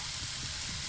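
Vegetables sizzling in a pan on high flame, a steady close hiss of frying with low bubbling underneath, no voices.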